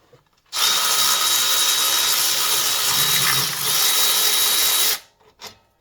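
A power wrench or impact tool spinning bolts loose on a Chevy Suburban 5.3L engine during a belt tensioner replacement, one continuous loud whirring burst of about four seconds, then brief small clicks and no talking.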